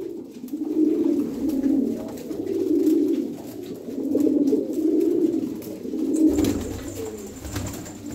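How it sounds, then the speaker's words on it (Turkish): Flight pigeons at the nest give repeated deep, rolling coos in steady swelling phrases about a second apart, close and clear with little else around them. "O erkek de onu yuvadan kaldırmaya çalışıyor yumurtanın üstünden."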